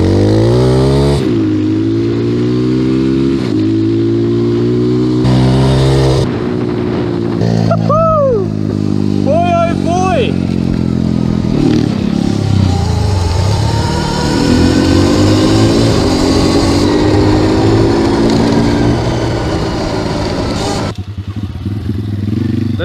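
An electric bike and a 140cc pit bike line up for a drag race, the pit bike's engine revving loudly and climbing in pitch through the gears up close, while people talk briefly over the engine noise.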